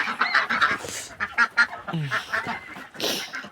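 Raspy honking quacks from a drake, repeated in short bursts close by, loud and somewhat hoarse.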